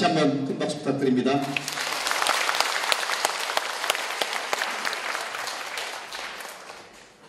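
A crowd at a Buddhist statue-consecration dharma service breaks into loud, sustained applause after a brief spoken line, the clapping swelling quickly and then slowly tapering off.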